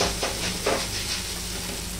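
Food sizzles steadily in rice bran oil in a frying pan, a close, continuous hiss with a few brief bursts of crackle and no one speaking.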